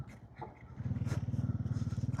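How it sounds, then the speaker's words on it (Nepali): A government motorcycle running nearby, its engine puttering in a low, regular throb that grows louder after a quiet start, with faint scrapes at the beginning. "सरकारी बाइक रहेछ"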